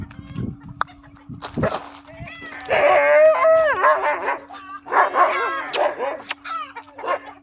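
A dog nearby gives high-pitched yips and whiny barks, with a person making repeated calling noises mixed in.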